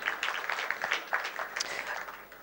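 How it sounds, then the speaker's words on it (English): An audience at a horticulture trade and investment conference applauding a panel and its moderator, a short, moderate round of clapping from a modest crowd. "Please, a round of applause to John and the panelists."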